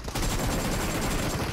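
Rapid, continuous gunfire in a mobile battle royale video game, a dense loud burst of shots that starts abruptly and keeps going without talk.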